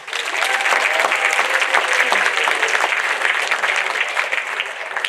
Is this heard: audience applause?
yes